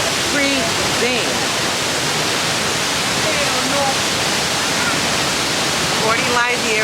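Waterfall at La Fortuna, Costa Rica, heard as a loud, steady, broadband roar of falling water close by, with faint voices under it.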